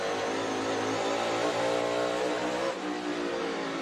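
A NASCAR Cup race car at North Wilkesboro's All-Star Race roars loudly and continuously, its engine note wavering as the tires spin without full throttle.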